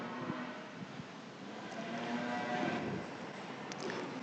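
Cattle mooing at a nighttime feeder calf show at the Nebraska State Fair, a few low drawn-out bellows over a busy arena background hum, moderately distant and faint.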